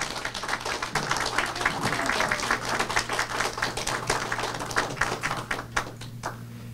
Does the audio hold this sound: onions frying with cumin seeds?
no